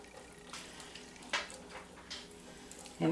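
Finely diced onions, carrots and celery sizzle quietly in a heating pot, a soft steady fry with a few louder clinks and stirs along the way.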